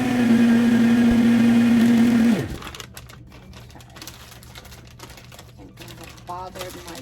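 A kitchen blender whirs loudly with a steady motor whine for about two seconds, then cuts off, leaving quieter clatter and room noise.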